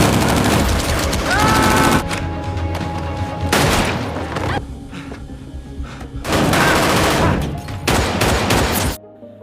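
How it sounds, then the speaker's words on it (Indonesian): Bursts of rapid automatic gunfire from robbers in a film scene, two loud volleys with booms, separated by a quieter stretch, ending abruptly. "salah satu perampok itu melepaskan sebuah tembakan ke arah Sawol"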